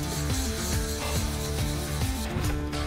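Hand sanding through the lacquer on the back of a high-gloss Westone X390 Pantera guitar body, with a steady close rubbing swish in repeated strokes under faint background music and no talk.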